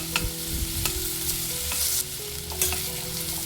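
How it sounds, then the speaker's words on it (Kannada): Onions fry in a pan until reddish for a North Karnataka style pea and milk dish, a steady close sizzle with occasional light stirring scrapes and taps, no one speaking. "ನೋಡಿ ಈರುಳ್ಳಿ ಕೂಡ ಕೆಂಪಾಗಿ ಆಗೋ ತನಕ ಹುರ್ಕೊಂಡಿದ್ದೀವಿ"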